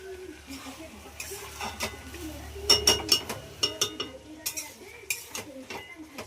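Pots and utensils clink and scrape in a kitchen while spinach curry with vegetables cooks and a pot is covered, a string of close metallic taps and knocks over faint background noise.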